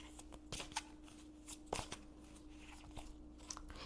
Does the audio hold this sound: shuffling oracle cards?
yes